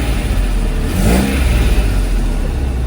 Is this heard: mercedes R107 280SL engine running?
yes